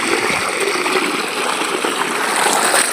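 Fresh groundwater flows from underground in the wild as a steady, close rushing stream, a dense and even wash of water with no voices over it.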